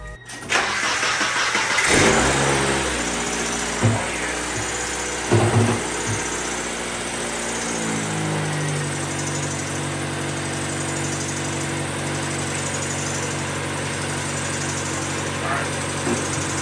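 A wrecked Mazda Miata's engine cranks, catches and fires up, then settles into a steady idle with a low droning hum and a few brief revs or clunks along the way, close and fairly loud throughout.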